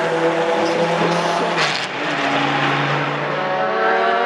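FIA GT race cars roar past at the Spa circuit, loud and close. Engines blare and shift pitch as the cars pass, and there is no talking.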